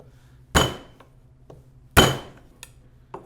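Ginger being smashed flat on a cutting board, two sharp knocking thumps with lighter taps after each, close and clear in a quiet kitchen.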